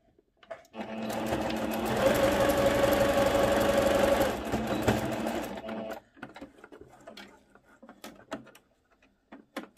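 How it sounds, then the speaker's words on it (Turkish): A sewing machine closes the gap left for the elastic in a skirt, humming at a steady run for about five seconds, then stopping for faint clicks and fabric handling. "Lastik bölümü için bıraktığım boşluğu da dikiyorum."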